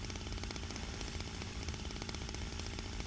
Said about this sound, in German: Also hier läuft irgendeine Maschine.